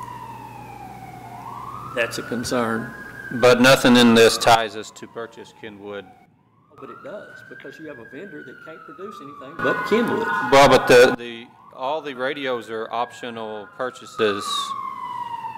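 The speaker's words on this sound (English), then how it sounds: "Let the record show that's a siren." An emergency siren wails in rising and falling sweeps outside a county commissioners court meeting, repeating several times at a steady pitch while people keep talking over it.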